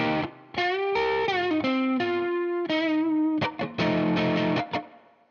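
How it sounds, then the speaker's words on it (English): A song's main riff on an electric guitar, played with heavy distortion: a loud, gritty run of sliding and choppy notes, ending in a burst of short, punchy stabs. "Here we've got that main riff."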